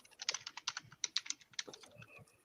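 Rapid clacking keystrokes on a noisy computer keyboard patter in an uneven burst, close and fairly quiet, with no voices.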